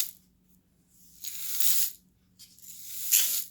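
Two slow swishing pulses of a small homemade rain shaker, a soft hiss of tiny grains sliding back and forth, close and alone, sounding like rain.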